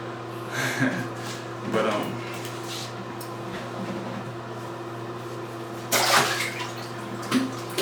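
An Asian water monitor lizard gives short, breathy hisses in a few bursts, the loudest near the end, over a steady indoor hum while someone speaks.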